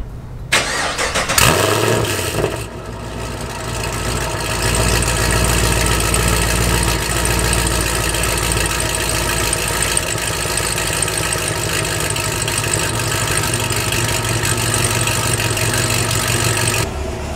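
A tuned car engine, just flashed with HP Tuners, cranks briefly, catches and fires up loud and close, then settles into a steady, even idle that carries on alone to the end.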